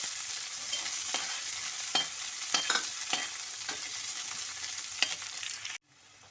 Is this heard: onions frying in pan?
yes